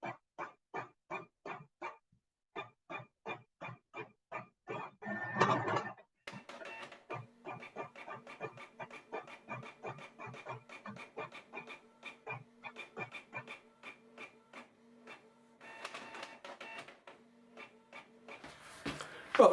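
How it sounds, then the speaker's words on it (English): An old colour inkjet printer prints model aeroplane plans with regular mechanical chirps and stepping pulses, carriage passes repeating in rhythm, punctuated by occasional louder rustling feed bursts. "this is quite an old printer, but it's just a colour inkjet, and it does the job that we need"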